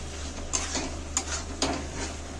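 Potatoes fry with spices in a pan, a steady sizzle under a few sharp scrapes and clinks of a spoon stirring against the metal, close and fairly loud.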